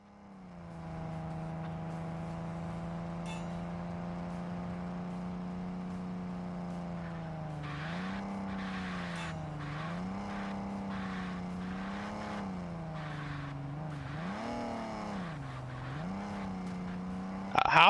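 A racing engine drones steadily in a racing video game while tires squeal in wavering bursts on dirt, the pitch rising and falling as the car slides through turns.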